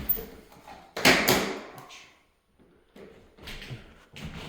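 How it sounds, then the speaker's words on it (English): Doors being locked inside a house, heard as a sharp thud and rattle of a door and latch, then fainter clicks and knocks of handling after a short pause. "trying to lock doors so I don't forget them"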